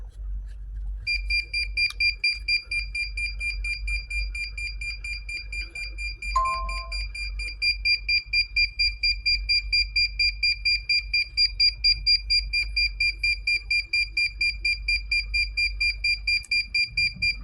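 A DJI Mini 3 Pro drone beeps high and rapidly, repeating steadily and continuously, with a brief lower tone partway through, over a low background hum.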